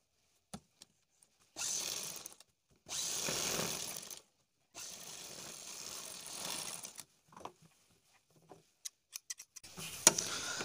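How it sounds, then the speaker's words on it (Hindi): A sewing machine runs in several short bursts, stitching along the buckram edge of a kurti back neck, with quiet pauses and small handling clicks between runs. "अब बुकरम के किनारे से हमें सिलाई लगाना है।"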